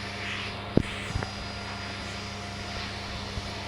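Video-game airplane engine of a burning plane about to explode, a steady low drone holding throughout with a few brief sharp clicks and knocks over it.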